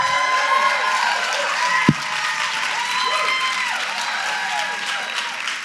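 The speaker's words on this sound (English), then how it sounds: "Okay, Byron, you brought your own crowd, it's very clear" An audience at a conference applauds as a panelist is introduced: steady, loud clapping from a sizable crowd with scattered cheers, sustained throughout.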